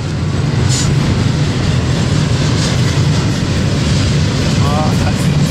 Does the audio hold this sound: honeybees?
no